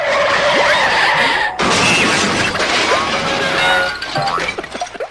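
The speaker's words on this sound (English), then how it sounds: "Car crashed into a mattress factory. Let's have a listen. This is the isolated sound effect." A cartoon sound effect of a car crashing into a mattress factory: a loud, chaotic run of smashing, shattering and clattering impacts with skidding squeals and springy boings, ending in scattered thumps.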